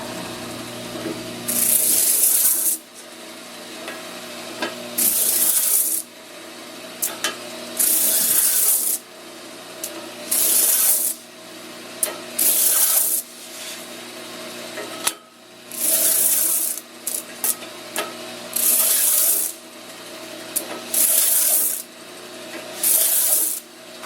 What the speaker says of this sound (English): take it and just run it across this sanding wheel, and it'll take any fuzzies off